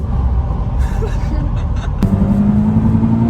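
A 2026 Mazda MX-5 drives along with a steady low engine and road rumble from inside the cabin, its engine note rising into a clear climbing drone partway through, with no talk.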